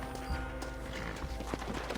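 Soft horse hoof clip-clops in the video game Red Dead Redemption tap irregularly over a dense, steady background of ambient noise and low hum.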